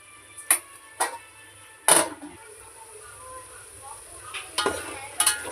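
Ginger paste sautés in a pan for chicken curry, a soft background sizzle punctuated by several sharp spatula knocks and scrapes against the pan.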